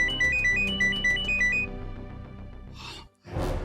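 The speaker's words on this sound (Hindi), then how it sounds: "मेरा फोन बज रहा है।" A mobile phone plays a melodic ringtone loudly and close by, a repeating synthetic tune that cuts off abruptly before a burst of noise.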